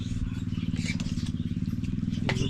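A motorcycle engine putters with a fast, throbbing idle, close and steady, with a brief sharp click near the end.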